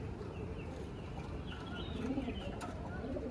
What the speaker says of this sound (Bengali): টপ কোয়ালিটির পায়রা